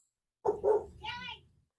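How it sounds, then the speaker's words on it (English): A dog gives two quick barks followed by a higher whining yelp, close and clear against otherwise silent surroundings. "Hang on, my dog's going apeshit."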